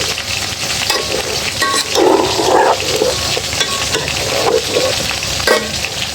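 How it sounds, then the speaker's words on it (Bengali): Meat and oil are stirred together in a rice cooker: close, steady scraping and sizzling, with a few brief louder scrapes of the spoon against the pot. "তেল দিয়ে দিব একটু এবার সব কিছু একসাথে ভালো মতো মিশিয়ে নিচ্ছি"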